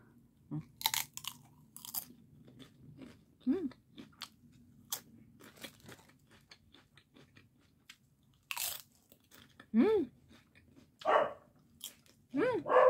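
Crunchy cassava crackers coated in palm sugar bitten and chewed close up, several loud crisp crunches in irregular bursts with quiet pauses between, and a low hum underneath.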